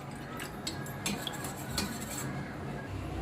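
A spoon clinks and scrapes steadily against a bowl while stirring vinegar and water, close up, with light repeated taps and no talking.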